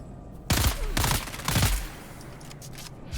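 Gunfire in the video game Dune Awakening: three quick, loud shots about half a second apart, each trailing into a rumbling echo, over a low game ambience.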